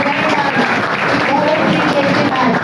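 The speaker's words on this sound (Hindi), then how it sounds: "जोरदार तालियां बजाइए" Audience at a Diwali celebration applauding loudly and steadily, a dense continuous wash of clapping with some voices mixed in throughout.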